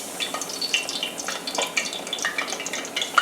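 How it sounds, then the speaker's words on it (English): Oil crackles and sizzles as eggplant fries in a pan, with dense, irregular pops at close range and no voices. "Now these fry up pretty quickly, so you want to keep your eye on them."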